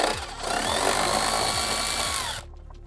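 A power driver whirs steadily while backing out Torx 25 screws from the dashboard of a first-generation Volvo V70, a continuous close buzz lasting a couple of seconds before cutting off.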